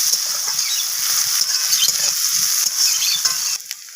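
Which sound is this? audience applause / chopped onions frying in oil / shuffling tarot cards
chopped onions frying in oil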